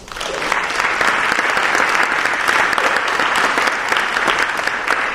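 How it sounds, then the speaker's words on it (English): Loud, close applause from the audience at a village trustee debate, a continuous burst of many hands clapping at a steady level from start to finish. "Would you all mind giving them a round of applause?"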